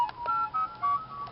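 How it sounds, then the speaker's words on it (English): A mobile phone rings during an outdoor barbecue cook, a short series of clear electronic tones repeating in brief bursts, fairly quiet and close, with no talking over it. "That's my phone."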